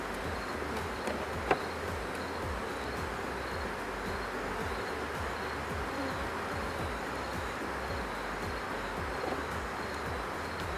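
Honey bees buzz steadily around hive frames being prepared for winter, a dense close drone running throughout with one brief knock and no talking.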